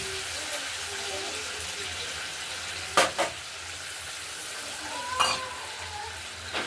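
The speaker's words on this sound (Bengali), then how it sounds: "এবার গ্রেভিটাকে, মশলাটাকে একটু ভেজে নিচ্ছি।" A spice paste gravy fries in a pan with a soft, continuous sizzle and occasional scrapes or clinks of stirring.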